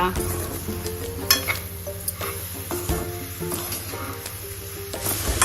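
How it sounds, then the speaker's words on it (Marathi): Grated fresh coconut with sugar and cardamom powder being sautéed over low heat in a pan for coconut barfi, with a steady soft sizzle under repeated scraping strokes of a spatula against the pan. "1 चमचा विलायची पावडर टाकून चांगलं परतून घेऊया।"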